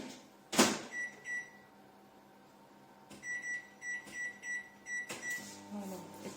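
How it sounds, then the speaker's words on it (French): A microwave oven set to 600 watts melts butter: a door thump, then a steady low hum broken by a series of rhythmic high beeps as buttons are pressed and the oven starts, heard fairly close in a quiet kitchen with no talking. "Donc 1 minute à 600 watts pour qu'il fonde."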